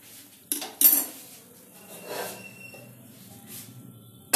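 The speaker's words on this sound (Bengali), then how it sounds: "এবার এটাকে আমি এই গরম কড়াটাকে সরিয়ে নিয়ে একটা অন্য কড়া বসিয়ে" A hot wok is lifted off a stove and another set down while cooking chicken Manchurian, with two sharp metallic clanks close together early on, then a softer scrape and quiet kitchen rustle.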